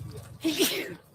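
A single quick sneeze, sharp and close, preceded by a brief soft breath.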